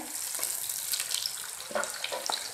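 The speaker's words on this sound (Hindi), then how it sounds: "प्याज खूब शोर मचाते हुए फ्राई हो रहे हैं।" Onions fry noisily in hot oil for gola kabab, giving a steady bright hiss and sizzle sprinkled with small crackles and pops, with no one speaking.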